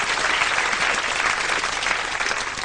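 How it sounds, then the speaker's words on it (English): Steady audience applause from a live variety-show crowd, loud, dense and continuous for the full stretch, with no voices over it. "And I think that deserves a round of applause."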